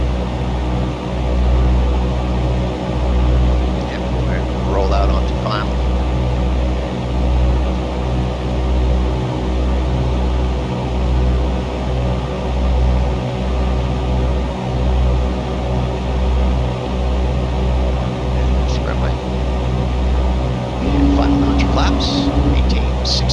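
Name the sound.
Cessna 172 airplane landing, touch-and-go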